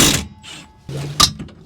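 Milwaukee 2960 impact wrench with a shallow low-profile impact socket loosening a rear brake caliper bracket bolt on a Honda Odyssey: short mechanical bursts and clicks, a brief whirr and a sharp rattle near the end, close up.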